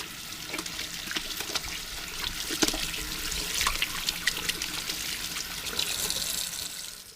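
Hands being washed under a running tap in a home kitchen while sauerkraut is prepared: a steady stream of water with irregular splashes and rubbing as the hands move through it, fairly quiet and close.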